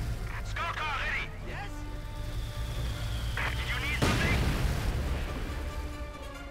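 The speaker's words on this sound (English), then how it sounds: "a quick MG42 there, recruited by some plucky Osttruppen" Gunfire from a German MG42 machine gun in Company of Heroes 2 crackles in bursts amid battle noise, with a brief explosion-like boom near the middle, all under continuous commentary.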